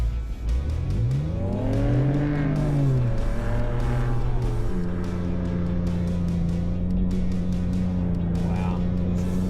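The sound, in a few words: Ford Raptor truck revving, climbing a sand dune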